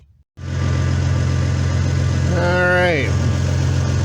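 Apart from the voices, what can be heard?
1997 Toyota 4Runner engine running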